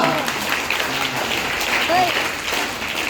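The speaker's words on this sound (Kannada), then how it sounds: "ಜೋರಾದ ಚಪ್ಪಾಳೆ ಹೊಡೆದ್ರಲ್ಲ" A crowd claps at a Ganesha festival celebration after a devotional song, a moderately loud, steady patter of hand claps from a gathered audience, lasting the whole short stretch, with voices mixed in.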